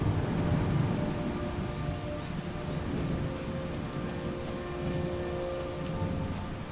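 A thunderstorm in VR Skyrim: steady heavy rain pours throughout, with low rolling thunder beneath it and no voices.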